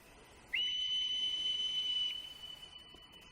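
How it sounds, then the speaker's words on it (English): A bright, steady whistle from a heavenly messenger in the video game Dragon Quest X rings out alone, holding one long clear tone for about a second and a half over a quiet ambient background. "And a whistle rang out"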